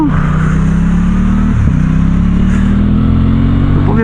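Aprilia Tuono 660 Factory motorcycle engine idling and revving, a steady loud drone with a brief blip of throttle midway, close by with no talk.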